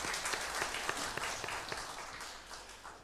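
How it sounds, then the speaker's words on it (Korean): A church congregation claps together during an evening worship service, a dense patter of many hands held at a steady level for a few seconds and then thinning slightly, quiet and somewhat distant, with no voices over it. "우리 박수로 한번 하나님께 영광 돌리겠습니다."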